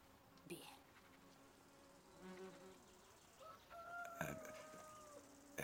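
A bee buzzes faintly in short passes against a quiet outdoor background, with a rooster crowing in the distance.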